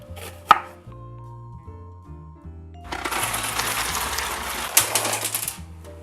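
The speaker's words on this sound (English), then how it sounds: "start chopping 2 onions. You want to slice these very thinly." Knife slicing two onions very thinly on a cutting board: a single sharp chop, then a rapid, close, steady run of crisp blade taps for the last few seconds, with kitchen background hum throughout.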